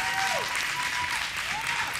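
Crowd applause at an entertainer of the year award event, a loud, continuous roar of clapping with faint whistle-like tones gliding through it.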